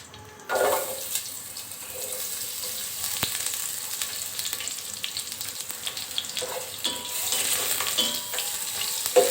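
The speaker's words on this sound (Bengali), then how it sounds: "পেঁয়াজটা 4-5 মিনিট ভেজে নেব।" Chopped onions fry in hot oil for mutton biryani, a continuous sizzle close by with occasional louder crackles and stirring scrapes, and no talk.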